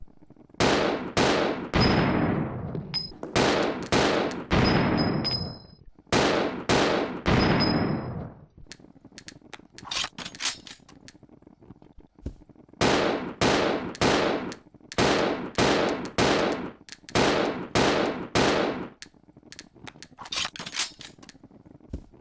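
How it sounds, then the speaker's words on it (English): Billy's custom handgun fires in Resident Evil Zero as rapid bursts of loud, sharp gunshots. Runs of quick shots alternate with brief pauses and reload clicks, and the shots resume in a second long burst. "now let's test Billy's custom handgun out"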